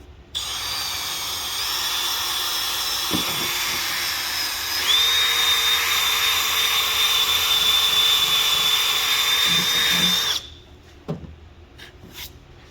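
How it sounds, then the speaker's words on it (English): A power sander sanding thick paint off a car headlight whirs steadily for about ten seconds, its pitch rising to a higher whine partway through, then stops, leaving a few light knocks. "it says just start sanding and see what happens"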